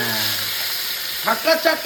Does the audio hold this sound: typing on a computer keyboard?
no